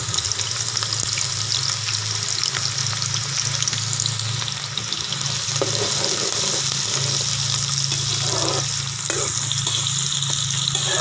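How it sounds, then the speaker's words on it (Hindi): Onions fry in ghee for dhaba-style chana dal, with a loud continuous sizzle and crackle, some stirring scrapes, and a low hum underneath throughout. "घी जो है उसके अंदर प्याज डाल देंगे"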